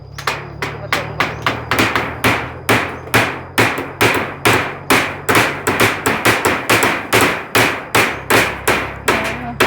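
Hammer blows while thatching a large hut roof, a long run of loud, sharp, evenly paced strikes close by, about two or three per second, with a few faint voices underneath.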